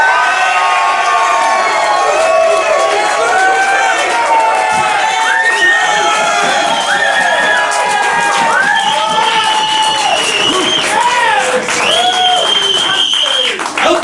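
A comedy show audience screams, whoops and cheers loudly, with whistles and clapping, a lively crowd roar that stays at full volume throughout.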